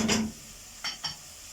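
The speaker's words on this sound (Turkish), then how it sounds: "Kavruluyor. Biraz kavrulsun şöyle." Tomato paste sizzling in a pan, with a soft scrape of stirring at the start and two brief scraping strokes later over a faint steady fry.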